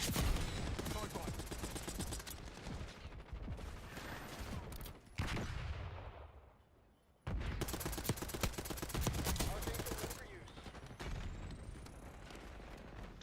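Video game gunfire rattles in dense automatic bursts and rapid shots, loud and close, breaking off briefly midway into a fading tail before resuming in heavy volleys.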